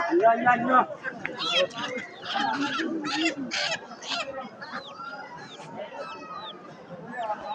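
Village chickens and ducks at a rural Bangladeshi poultry market clucking and squawking nearby amid a busy crowd, with people talking throughout and occasional sharp bird calls rising above the chatter.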